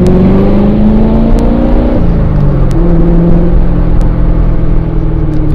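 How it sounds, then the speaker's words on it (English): A 2015 C7 Corvette Z51's exhaust rumbles and revs steadily, a deep loud drone with shifting pitch and a few sharp pops along the way. "the exhaust sounds amazing as well"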